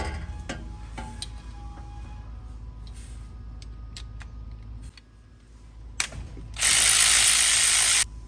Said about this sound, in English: I'm gonna go ahead and remove these two bolts out of there